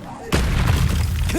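The Incendio fire spell is cast in Hogwarts Legacy, opening with a sudden loud boom that turns into a sustained, roaring fiery rush, with a voice heard faintly underneath.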